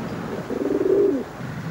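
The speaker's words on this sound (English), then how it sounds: "The pigeons." Pigeons coo in a low, rolling burst that swells and fades within about a second, close and fairly loud, with no talking over it.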